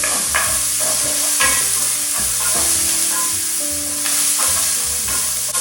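Spam and frozen peas frying in a pan, a steady loud sizzle with repeated stirring scrapes and clinks of a utensil, close and with no talking.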